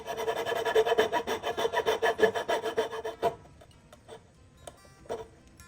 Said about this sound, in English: So let's use a simple coping saw here, and we're going to remove where our pins are going to be.